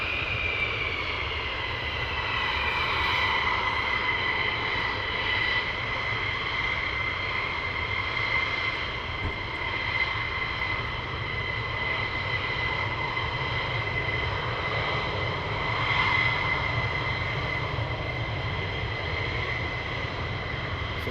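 Military jet aircraft taxi on the north side of RAF Lakenheath airfield, giving a loud, steady engine roar with a sustained high whine that holds unbroken throughout, with no voices.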